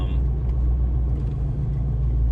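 A vehicle rolls slowly along the aisles of a storage lot, a steady low engine and tyre rumble heard close and continuous with no speech.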